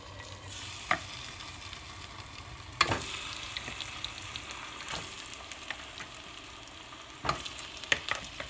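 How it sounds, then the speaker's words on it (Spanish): Chicken fries in a few drops of oil in a pot, a faint steady sizzle with a handful of sharp clatters and scrapes from moving the pieces, close and quiet, no speech. "Entonces voy a poner el pollo a cocinar."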